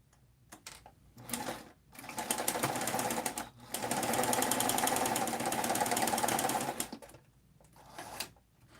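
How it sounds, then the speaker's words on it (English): A sewing machine stitches up a sleeve cuff in several close bursts: short stuttering starts, then two long runs of fast, even needle clatter separated by brief pauses, ending with a couple of quick jabs. "We need to sew up the cuff."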